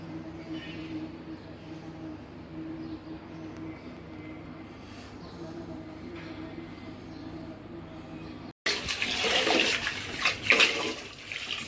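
Rice grains washed by hand in water at home, a steady low sloshing and running-water wash, with a louder burst of splashing near the end.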